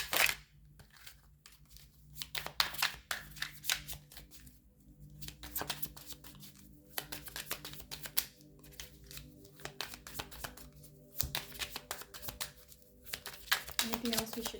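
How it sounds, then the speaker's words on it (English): Tarot cards shuffled and swept aside on a reading table, a run of close, soft papery slides, flicks and taps in irregular bursts separated by short pauses. "Just gonna clear some of these cards out of the way."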